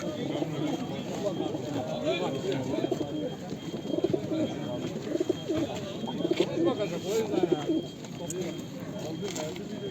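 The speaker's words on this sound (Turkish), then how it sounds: "Burada da güzel kuşlar gelmiş bugün." Many birds coo continuously in a busy, crowded outdoor bird market in Edirnekapı, with people talking in the background.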